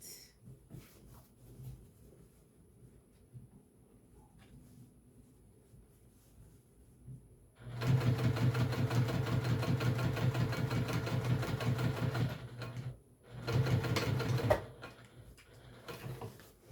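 A sewing machine top stitches a vintage-style apron in two bursts, a steady fast mechanical whir running about five seconds, pausing briefly, then resuming for a shorter run over a quiet room background.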